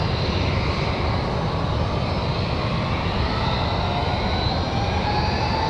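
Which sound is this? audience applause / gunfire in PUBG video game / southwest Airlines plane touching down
southwest Airlines plane touching down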